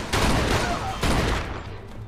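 Heavy gunfire in the video game Mafia 2: two loud, booming volleys of shots close by, each rolling into a dense rumbling tail.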